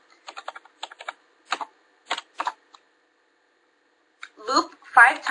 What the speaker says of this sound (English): you can begin to type your program